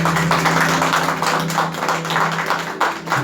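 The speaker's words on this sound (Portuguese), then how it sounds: "As palmas louvem e agradeçam ao Senhor Jesus Cristo." A church congregation claps hands in praise, a dense, continuous patter of many hands with slight rhythmic surges, fairly loud and close, with no talking over it.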